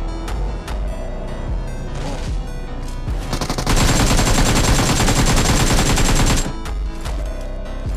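Rapid automatic gunfire in the mobile battle royale game BGMI, dense bursts of shots building to a sustained loud volley in the middle, then trailing off into scattered cracks.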